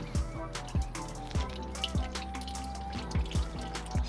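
Motor oil glugging out of a freshly opened oil can during car maintenance, a close series of irregular liquid plops and gurgles over a low steady hum.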